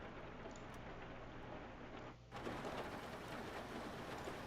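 Steady, dense rain hiss in a WW2 video game fills the whole scene, briefly dipping for a moment before returning just as heavy.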